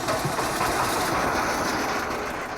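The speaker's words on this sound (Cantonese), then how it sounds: "漁船嘅馬達聲再次響起" Motor of a fishing boat running on a river, a steady close broadband engine drone with a rumbling, slightly rattling texture that holds level throughout, with no voices.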